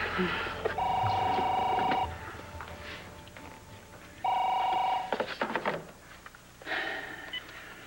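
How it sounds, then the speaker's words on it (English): A telephone rings in a home in a television drama: two long electronic rings separated by a pause, with a third starting at the end, loud and close, with faint voices underneath. "Isn't that your phone? I think it's your phone."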